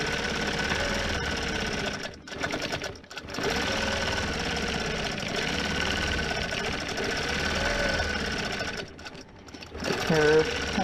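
A sewing machine stitching a quilt, running in a fast, steady mechanical chatter up close, briefly pausing twice before resuming; a person talks over it.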